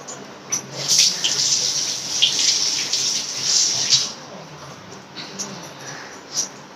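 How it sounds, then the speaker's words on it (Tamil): Tap water runs in bursts while hands are washed during biryani prep in a home kitchen, a hissing splash that starts and stops several times, close by and fairly loud. "இப்போ கையை கழுவி வந்துடுறேன்."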